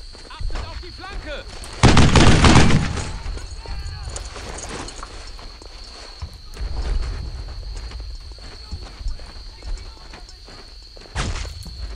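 Gunfire in the World War II shooter Brothers in Arms: Earned in Blood, a loud close volley near the start, then scattered shots and impacts while soldiers shout orders over the fighting.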